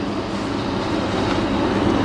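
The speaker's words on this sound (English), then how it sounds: "Here is my train. It's an electric locomotive hauled train." Class 90 electric locomotive hauling a passenger train through Ipswich Tunnel, a steady, enclosed roar of wheels and rails heard from onboard, continuous and fairly loud.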